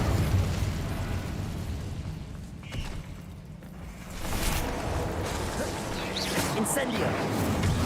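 An Incendio fire spell cast in Hogwarts Legacy: dense, rumbling bursts of magic and combat, followed by a sharp whooshing blast and crackling pops near the end, with game voices mixed in.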